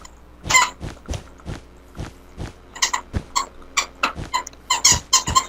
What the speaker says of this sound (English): What is that squeaking sound?